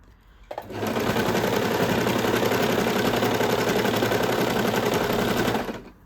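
A sewing machine runs steadily, stitching elastic into the waistband of a mini skirt made from an old T-shirt, one continuous loud whirring run of about five seconds that starts and stops cleanly.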